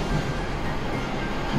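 A train passes close by, a loud steady rumble of wheels on rail that fills the whole moment without any speech over it.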